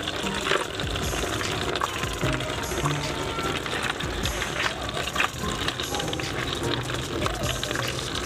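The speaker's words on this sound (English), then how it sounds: "Pouring, okay, cool." Liquid lactobacillus culture for chicken probiotics being poured into a container, a continuous splashing, trickling wash heard close and fairly loud, with no talking.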